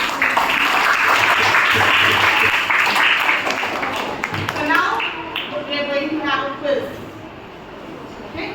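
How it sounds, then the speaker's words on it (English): A classroom of schoolchildren claps for themselves, a sustained broadband patter of many hands that fades after a few seconds as voices take over. "Clap yourselves."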